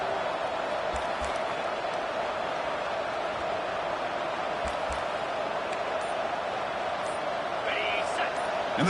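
Steady broadband crowd roar fills an American football video game stadium during a red-zone defensive stand, loud and continuous with faint thumps and a few brief higher accents.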